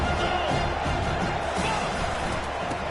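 Roaring football stadium crowd urging on the defense before a red zone play, a dense steady wall of noise.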